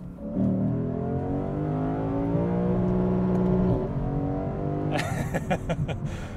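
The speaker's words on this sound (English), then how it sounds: "let's downshift and give you guys some sound" A 2024 Lexus IS 500 with its V8 downshifts and revs hard from inside the car, the engine note climbing steadily for several seconds, then dropping off into rapid crackling pops and burbles at the end.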